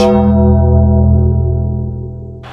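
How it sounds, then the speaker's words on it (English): A deep, loud gong rings out for The Undertaker's entrance in the WWE 2K19 video game, its rich sustained tones slowly decaying over a couple of seconds with no voices over it. "That gong can only mean one thing! The Undertaker's here!"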